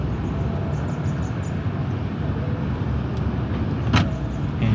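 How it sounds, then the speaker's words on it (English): The automatic power trunk of a Tesla Model 3 closes outdoors with a continuous motor whir over road and ambient noise, and a brief sharper sound near the end. "and the trunk closes"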